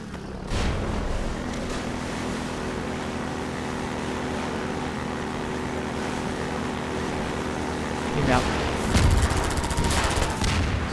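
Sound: machine gun fire in the video game Half-Life 2

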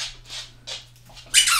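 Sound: squeaky Jester Ball dog toy

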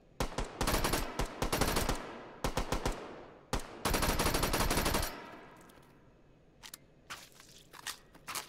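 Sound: gunfire from a gun in the video game H3VR

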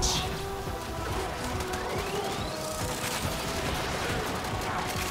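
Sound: gunfire in the video game Warframe

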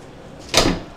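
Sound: van sliding door closing with easy closer

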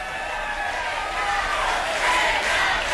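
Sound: studio audience chanting an actor's name

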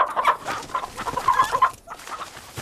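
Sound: chicken clucking

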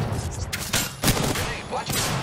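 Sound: enemy gunfire in the video game Apex Legends

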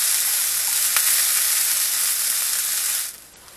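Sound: onions sautéing in a skillet

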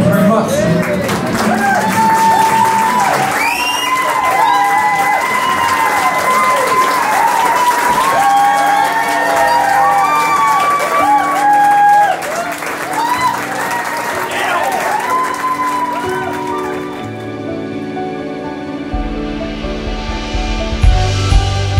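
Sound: wedding guests applauding and cheering the newlyweds

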